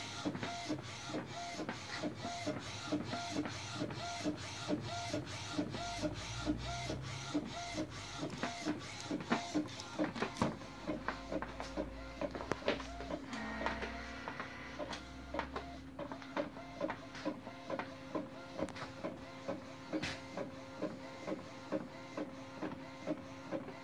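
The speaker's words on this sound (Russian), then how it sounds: "это единственный А3 принтер, который способен так качественно печатать по черным тканям" An Epson SC-P600 A3 inkjet, set up for direct-to-garment printing of white ink on black fabric, runs steadily with a rhythmic mechanical whir, clicking print-head passes and a low motor hum throughout, close and alone.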